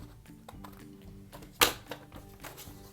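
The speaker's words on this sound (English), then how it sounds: "I'm just going to punch 2 at a time" A paper punch clicks sharply through two planner pages at once, one crisp punch standing out amid quiet taps and handling of paper close by.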